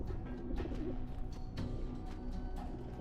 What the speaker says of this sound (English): I'm hearing the pigeons, I just can't figure out where they are.